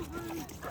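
A dog with anxiety lets out a thin, high whine close by, sustained briefly over a noisy background.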